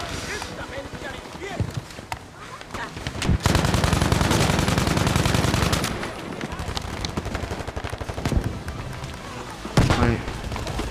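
Gunfire in the video game Battlefield V mixes single shots with bursts of machine-gun fire. A long, loud volley sits in the middle, with someone talking over the battle in places.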